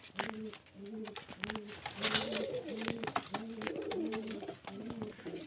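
Racing pigeons at a pigeon market in Murshidabad coo in repeated low, rolling phrases, several birds overlapping close by in a steady rhythm against faint market background noise.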